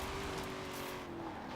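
Car engine in the Forza Horizon 4 racing game during a hillclimb, a sustained, steady engine drone with a held pitch that eases slightly near the end, heard alone at moderate level.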